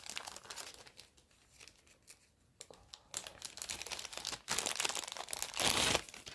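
Plastic wrapping around a white pearl choker necklace crinkles and crackles as it is opened by hand. Bursts grow louder and denser toward the end, with no talking.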